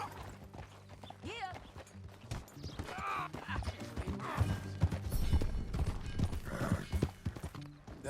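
Horse hooves clip-clop in a steady rhythm while riding in Red Dead Redemption 2, amid a busy game soundscape with occasional whinnies and character voices talking over it.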